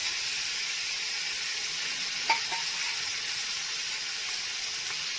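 Fish frying in oil in a pan gives a steady, even sizzle throughout, with one brief clink of a utensil near the middle.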